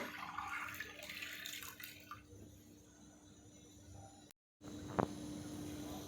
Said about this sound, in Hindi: इसमें हम डाल देंगे दाल चना।